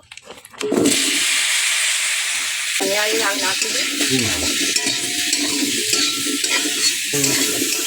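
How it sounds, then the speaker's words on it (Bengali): Washed potatoes with salt and turmeric frying in a little oil in a kadai, a loud steady sizzle that bursts in after a quiet start, with stirring scrapes and clatter throughout. "আমি আলুগুলো কষে নিচ্ছি, অল্প তেলেই রান্নাটা করছি"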